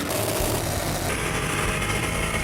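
A performance powerboat engine fitted with Custom Marine mufflers, headers and tailpipes, a loud continuous rumbling idle that holds steady from start to finish.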